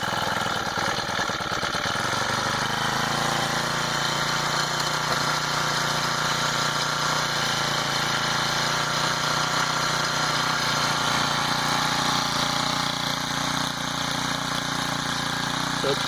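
A Honda GX25 small engine on a motorized bicycle idles steadily and fairly quietly, with an even, unbroken mid-pitched putter held throughout and no other sounds.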